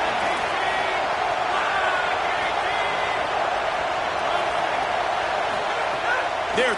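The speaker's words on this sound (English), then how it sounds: "The crowd getting behind this defense as they try to get a stop in the red zone." A college football stadium crowd roars steadily for the defense in the red zone, a dense, continuous wall of cheering and noise with no clear breaks.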